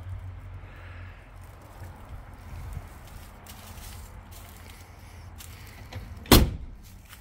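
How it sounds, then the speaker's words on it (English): A single sharp thud of a 1970 Ford Mustang Cobra door slamming shut, close by, after several seconds of quiet low rumble. "Look at that. Door closes perfect."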